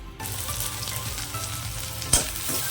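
Leftover onion sautés in oil left from frying crisp onions for a vegetable biryani gravy, crackling in a continuous close sizzle with one sharp clink of a spatula against the pan.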